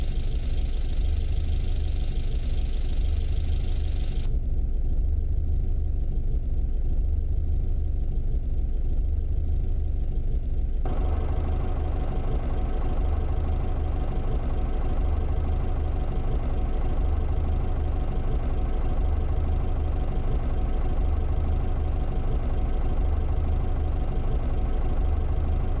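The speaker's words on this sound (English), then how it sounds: "you can hear the rattling sounds" An idling engine rattles with a continuous rhythmic knocking and tapping, loud and close, its tone changing sharply twice as different frequency filters are applied.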